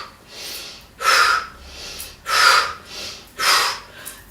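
Bhastrika yoga breathing during a standing yoga session: forceful, rhythmic bursts of air through the nose, with about four loud, sharp breaths alternating with softer ones in a steady, quick cycle, close and clear.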